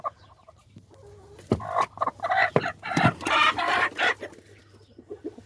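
Chicken clucking close by, a run of short throaty clucks building into a louder burst of excited calls, then trailing off into softer clucks.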